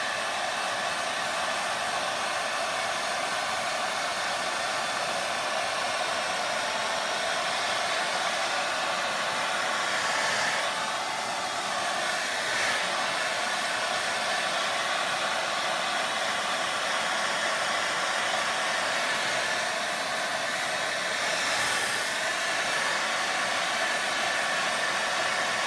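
A hair dryer blows steadily and loudly to dry freshly applied milk paint on a heavily textured surface, a constant airy roar with slight shifts in tone as it moves, running alone without talk.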